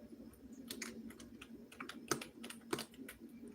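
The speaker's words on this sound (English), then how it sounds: "Let me bring the keyboard closer to me." Close, quiet typing on a computer keyboard, a steady patter of key clicks with a couple of sharper louder strikes near the end, over a faint low hum.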